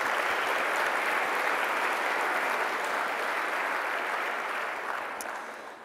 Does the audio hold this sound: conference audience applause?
yes